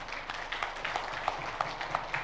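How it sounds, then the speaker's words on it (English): Applause from an audience at a sales motivation session, a moderately quiet, steady patter of many hands clapping with a few sharper individual claps, continuing evenly from start to finish. "clap for yourself"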